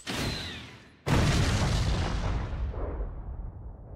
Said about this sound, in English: They're blowing up the facility.